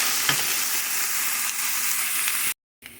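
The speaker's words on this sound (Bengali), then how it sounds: "পটলগুলির ভেতরে একটু হলুদের গুঁড়া দিব একটু ভালো মতো একটু ভেজে নিই" Pointed gourd pieces frying with a pinch of turmeric powder in a pan, a steady loud hiss of oil sizzling with faint stirring scrapes, cutting out briefly near the end before resuming, no talk.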